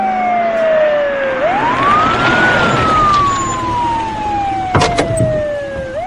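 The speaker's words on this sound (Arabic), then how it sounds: "هي دي سرينة اسعاف ولا شرطه" A police siren in an Egyptian Arabic radio drama, its wailing tone sweeping up and down loudly and close over a steady traffic rumble, with no voices over it.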